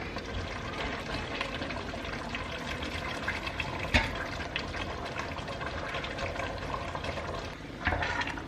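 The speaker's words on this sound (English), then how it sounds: "I'm going to add half a cup of water." Boiling water from a kettle poured into a pan of simmering butter chicken, a continuous hiss and splash of liquid over sizzling sauce, with a brief clank near the middle and another toward the end.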